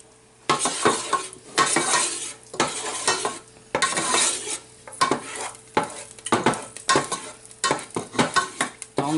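Garlic fries in a pan for a sauce while being stirred, with bursts of scraping and clinking from the utensil against the pan over a soft sizzle, in irregular strokes close by.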